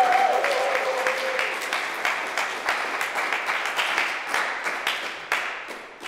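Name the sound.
audience applause welcoming the mayor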